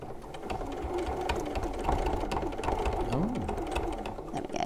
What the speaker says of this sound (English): So the sewing machine's not going to like me very much